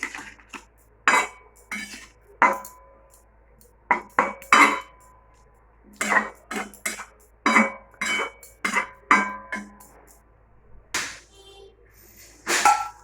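Metal spoon scraping and knocking around a cooking pot while turmeric is stirred into food, a series of sharp clinks and scrapes in irregular bursts, close and fairly loud with quiet gaps between.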